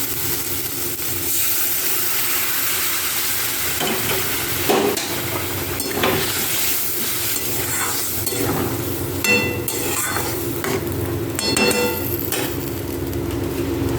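Hot water goes into a pan of sautéed potatoes for a duck egg curry, bringing a loud continuous sizzle and bubbling with occasional clinks of a utensil against the pan.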